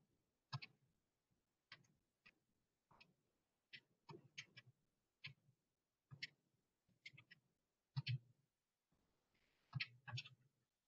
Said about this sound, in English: let's type that into the calculator and see what we get